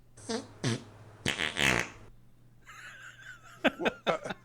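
A comic fart sound effect: several wet, buzzy blasts, the longest and loudest in the middle, followed by a fainter, sputtering tail with short bursts near the end, heard alone without talk.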